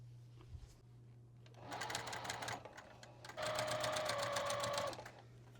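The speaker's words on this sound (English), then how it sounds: "I've just got the last of the borders pinned on here, and I'm just going to sew it on" A sewing machine stitches the borders onto a quilt top, running in two sustained bursts of rapid, rhythmic needle chatter with a short pause between them, close up over a steady low hum.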